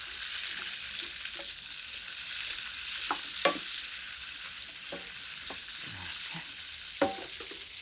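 Cauliflower pieces frying in rendered pancetta fat give off a steady close sizzle, with occasional clinks and scrapes of a spoon stirring the pan.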